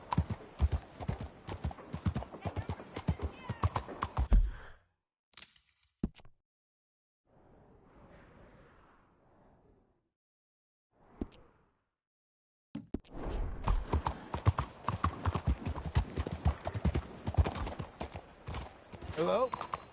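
Horse hooves clip-clopping in Red Dead Redemption 2, a rapid steady rhythm of close hoofbeats that stops for several seconds with faint sounds and a voice, then resumes at full pace.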